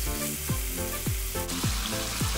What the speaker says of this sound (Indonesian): masukkan ayam dan tumis ayam sampai berubah warna. Masukkan serai dan tumis lagi sampai semuanya menyatu.